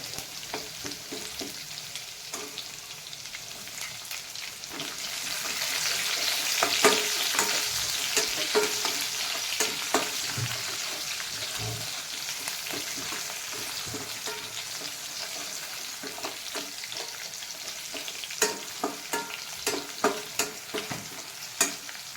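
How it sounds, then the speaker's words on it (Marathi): Green chillies hit hot oil already holding golden-browned garlic and curry leaves, giving a steady close sizzle and frying hiss with occasional stirring clicks and scrapes, no voices. "लसूण थोडा गोल्डन ब्राऊन झाला की त्यामध्ये मिरची टाकून घेते।"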